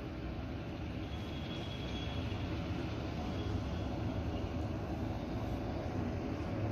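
A helicopter in Kathmandu, Nepal idles as passengers board before takeoff, a steady dense mechanical drone that holds even and moderately loud throughout with no talk.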